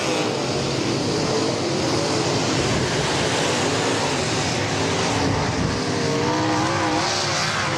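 Stock cars racing three wide on a track at night, a loud continuous roar of several engines close by, with shifting pitched whines as cars pass and no voices over it.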